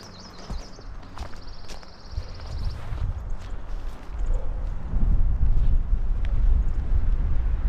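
Wind gusts at a cold early-spring backcountry canoe campsite, a low rumbling buffet that builds and grows louder toward the end, with a few faint clicks and bird chirps early on.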